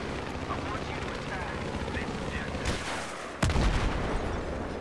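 Rapid anti-aircraft tank cannon fire in the Battlefield 3 multiplayer video game, a dense continuous roar layered with a nearby helicopter drone, jumping louder near the end, with a voice talking over it.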